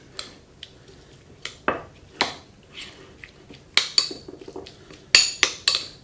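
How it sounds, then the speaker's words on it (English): Mackerel burger ingredients with dill given a quick mix in a bowl: a spoon knocks and clinks against the bowl in sharp, irregular taps, close and fairly loud, with short quiet gaps between strokes. "Give that a bit of a quick mix."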